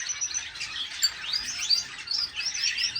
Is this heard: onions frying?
no